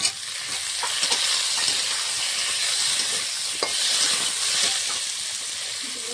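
Eggplant and okra are added to lightly fried potatoes in a hot pan for a Bengali puti fish curry, giving a continuous bright sizzle and steamy hiss with a few sharp crackles and light stirring taps.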